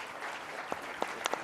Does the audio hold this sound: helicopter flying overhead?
no